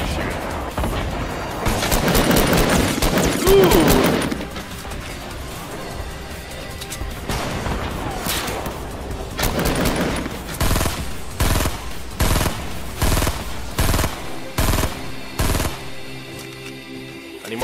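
Rapid automatic gunfire rattles in Fortnite, dense volleys at first, then a series of distinct, evenly spaced loud shots in the latter half, close and punchy with no talk over it.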